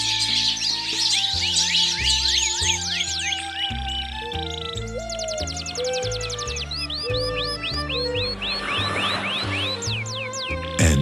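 Birds chirp and trill steadily in a dense chorus of short rising calls, set under a sustained musical backing that carries on throughout.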